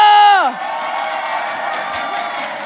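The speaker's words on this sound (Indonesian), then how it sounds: "So, APL Arena mana tepuk tangannya?" Esports arena crowd at an MPL Indonesia match, EVOS Legends versus ONIC, cheering and clapping steadily after a loud shout or horn fades, a dense sustained roar of many voices.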